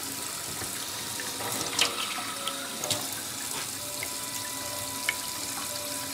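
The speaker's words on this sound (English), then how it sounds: "And I do that just by squeezing the bottom bottle a bit." Water trickles and splashes through a homemade hydraulic setup of squeezed plastic bottles and a draining cup, a soft continuous flow with a few small drips and gurgles, no voices.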